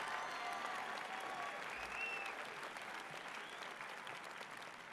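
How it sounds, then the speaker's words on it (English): Dense, sustained applause from the audience at a high school graduation ceremony, a loud continuous wash of many hands clapping together, fairly even throughout with faint cheering mixed in. "Let's give a round of applause for our students."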